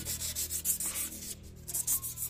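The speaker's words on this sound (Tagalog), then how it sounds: "lihain nyo lang yung mga parting kailangan lihahin" Hand sanding on metal parts of a Honda Wave S 125 motorcycle under restoration, such as the chassis and fuel tank, with steady rhythmic back-and-forth rubbing strokes, close and fairly quiet, with no voices.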